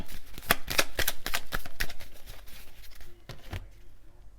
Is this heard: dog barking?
no